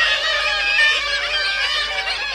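Seabirds squabble over territory in a dense, raucous chorus of overlapping harsh cries and calls, loud and close, with no talk.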